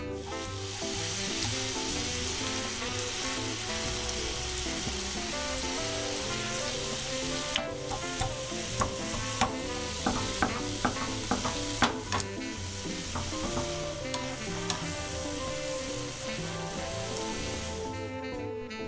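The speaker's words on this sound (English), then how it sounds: "use the spatula or spoon to break the ground beef into smaller pieces" Ground beef fries in a pan over medium-high heat, broken into smaller pieces with a spatula: a steady, close sizzle runs throughout, with sharper scraping clicks growing busier in the second half.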